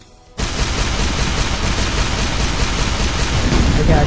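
A Needler weapon fires in the Shellshock Live tank game after a short quiet start, giving a dense, loud, unbroken burst of rapid crackling shots that lasts to the end.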